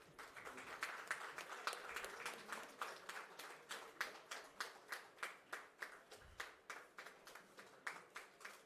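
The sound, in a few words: applause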